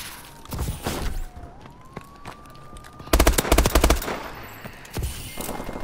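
Rapid automatic bursts from the Hole Puncher gun in a shooter video game rattle out in several quick volleys, the loudest near the middle, with a faint rising siren-like tone underneath.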